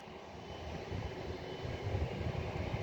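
Steady, distant rumbling roar of an airplane engine at an airport, a broad low drone that slowly swells louder, heard alone without voices.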